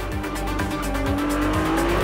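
A Ferrari 296 GTB, a V6 turbo hybrid road car, drives with a steady loud engine note rising in pitch while its tires squeal throughout, with no voices.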